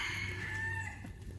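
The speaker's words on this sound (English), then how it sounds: "he's an emotional support rooster" A rooster at an animal rescue clucks and crows close by in one continuous call with no one speaking.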